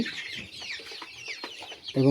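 Chickens on a small poultry farm of about 500 birds cluck close by in quick, overlapping calls, ending in a louder burst.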